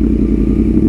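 A Yamaha R1 sport motorcycle on a test ride, its engine droning loud and close with a steady, dense low rumble throughout and no talking.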